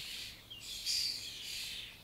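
Birds chirp softly in a natural outdoor setting, a steady, faint chorus of high tweets with one slightly louder call near the middle.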